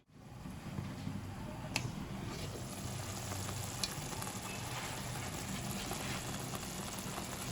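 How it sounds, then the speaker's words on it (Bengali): Spinach sautéing in a pan for palak paneer, an even close sizzle and hiss with a few light clinks of the spoon, no voices. "এবার পালং শাকটা ভালো করে কষিয়ে নিই।"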